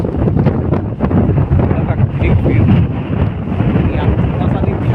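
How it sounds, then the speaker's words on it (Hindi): Strong wind sweeps over a valley at Mandu with drizzling rain, roaring loudly in heavy continuous gusts that buffet the microphone close up. "अभी इस समय काफ़ी तेज हवा है और साथ ही बारिश की फुहार है"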